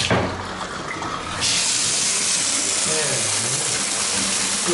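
Hot water pours from a bathtub faucet at strong pressure, a steady broadband rush that swells louder about a second in and then holds, with a person talking over it.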